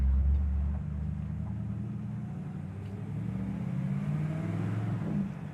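A 1962 Chevrolet Impala with a manual clutch drives along, its engine a steady low rumble with a slight rise in revs as it pulls through a gear change, heard from inside the car with no talk.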